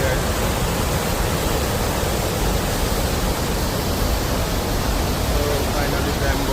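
On the Langtang trek near Bamboo, a mountain river rushes in the valley below, a continuous broadband roar of flowing water that stays steady and full throughout.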